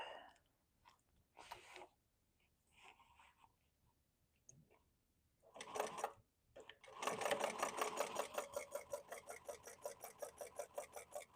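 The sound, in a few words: sewing machine topstitching a tote bag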